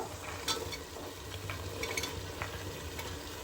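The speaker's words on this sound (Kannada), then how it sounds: "ಈ ಟೈಮಲ್ಲಿ ನಾವು ತೊಳೆದು ಇಟ್ಕೊಂಡಿರೋ ಅಂತ ಅವರೆಕಾಳನ್ನ ಹಾಕೋಬೇಕು" Field beans being stirred and fried in a pan for palav: a steady low sizzle with repeated scraping strokes of a spoon against the pan, close and fairly quiet, with no talking.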